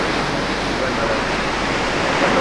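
Steady broadband wash of ocean surf in Hawaii, waves breaking a little way off in the distance, a continuous roar with no distinct individual crashes.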